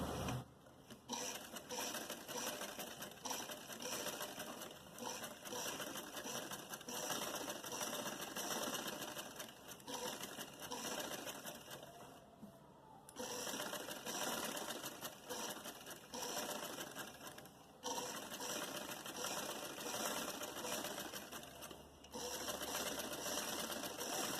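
A sewing machine stitches lace onto a blouse neck, running in long continuous whirring stretches with a few short pauses, steady and fairly close throughout.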